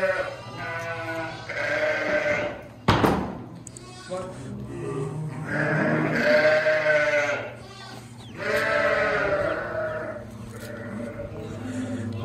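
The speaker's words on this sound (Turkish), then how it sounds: "Burada da diğer kuzular var." Sakız sheep and their lambs bleat repeatedly in a farm pen, with several overlapping calls close by and a sharp knock partway through. Voices can be heard talking now and then underneath.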